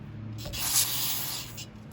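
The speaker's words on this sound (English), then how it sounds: "This is actually brake parts cleaner, but because I'm running low on carb spray." An aerosol can of brake parts cleaner, used on lawnmower carburetor parts, gives one continuous spray hiss of about a second and a half. It is close and moderately loud, with nobody speaking.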